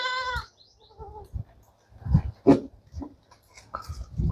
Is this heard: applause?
no